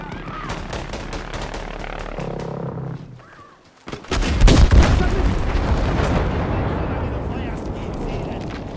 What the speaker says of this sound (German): Luftschlag!